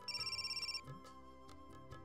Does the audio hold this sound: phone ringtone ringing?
yes